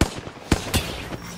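Gunfire in the Apex Legends video game comes as several sharp, separate shots spaced roughly a quarter to half second apart, moderately loud against a quiet background of game ambience.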